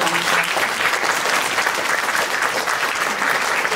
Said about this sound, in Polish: Ogromne brawa dla Hani.